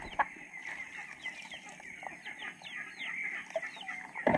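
Chickens cluck and chirp repeatedly at close range on a rural farm in the province, with a steady scatter of fowl calls throughout and a louder burst near the end.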